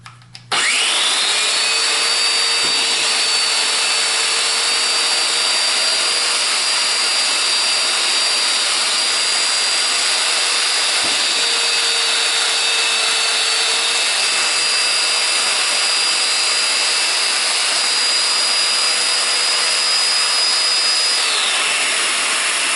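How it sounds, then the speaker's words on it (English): A domino joiner cuts mortises into 3/4-inch-thick wood cross pieces, with a high motor whine that spins up and holds steady and loud for about twenty seconds, its pitch shifting slightly under load, then stops abruptly. "I'm also going to domino these two cross pieces that are 3/4 of an inch thick."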